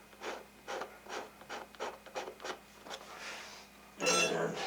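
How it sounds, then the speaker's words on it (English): A hand scraper smooths the wood of an instrument in a workshop, making a run of short rhythmic scraping strokes up close, followed by one louder, harsher rasp at the end. "And then I can refine it a little bit with my scraper."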